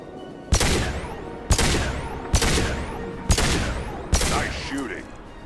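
Gunfire in the video game Mass Effect 2, five sharp, loud shots spaced about a second apart, each leaving a ringing tail, with speech present in the mix.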